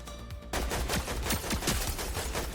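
Rapid bursts of automatic rifle fire in the online shooter Fortnite, loud and close, rattling steadily for over two seconds with no talking.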